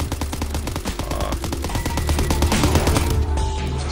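Rapid bursts of gunfire from Call of Duty WW2 Zombies rattle continuously in dense overlapping volleys, loud and close, with machine-gun rhythm throughout and no talking.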